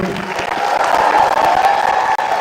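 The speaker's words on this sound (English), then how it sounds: "applause for our webcast crew" Loud, dense applause from a crowd, steady and sustained the whole time, close and full.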